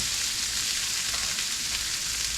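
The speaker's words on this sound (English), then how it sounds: "I've got my 2 tablespoons of butter sizzling up in this non-stick pan" Corn sizzles in two tablespoons of butter in a non-stick skillet, a steady, even hiss with light crackling and no talking.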